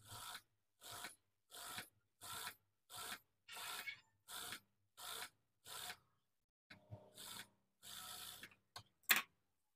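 Scissors snip repeatedly through the extra fabric of a sari border, a steady series of about a dozen short, crisp cuts up close, each followed by a brief silence, with no talking.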